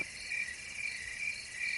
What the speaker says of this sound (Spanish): las chicharras cantaban como si presintieran tormenta